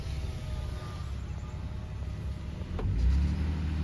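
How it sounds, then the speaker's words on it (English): A car passes on a gravel forest road in New Mexico, heard from inside a parked vehicle as a low, rising rumble that swells toward the end. "So that car just came down."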